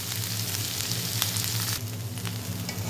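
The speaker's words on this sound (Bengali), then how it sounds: "গরম করে ভেজে নেব।" Chepa puli pitha, a Mymensingh-style stuffed rice cake, sizzling steadily as it fries in a hot pan, loud and close with brief stirring scrapes and no voices.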